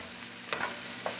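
Onions fry in a pan at home, a steady soft sizzle with a couple of brief scraping stirs, close and alone without talk.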